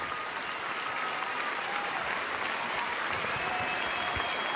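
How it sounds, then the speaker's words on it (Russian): Concert audience at the New Wave opening ceremony in Sochi applauds in a dense, sustained wash of clapping from a large crowd across a big hall, even and continuous throughout. "Еще раз ваши аплодисменты."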